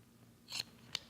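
Large fabric scissors cut through a seam allowance with two quick, crisp snips close by. The snips are short and sharp in an otherwise quiet room.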